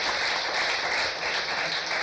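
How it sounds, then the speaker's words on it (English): A steady round of applause from an audience at a female leadership event, many hands clapping together in a dense, even wash that holds at a constant level throughout. "And I wish for a round of applause"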